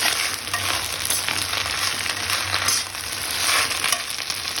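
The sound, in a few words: drumstick (sajne) leaves frying in oil in a wok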